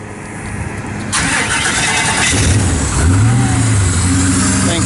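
A fuel-injected LS-swapped 1953 Pontiac Chieftain woody wagon engine cranks and catches, then settles into a steady rumbling idle with a slight rev, loud and close.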